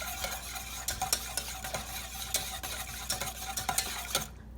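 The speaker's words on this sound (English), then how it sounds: "So, I stir this up." A spoon stirs a creamy, thickening mixture in a pan on the stove, with steady scraping and a soft sizzle running throughout, and sharper clinks now and then; no one speaks.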